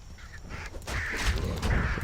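Birds in the video game Diablo 2 give honking, cawing fowl-like calls, a few overlapping cries, loud and close against game background noise.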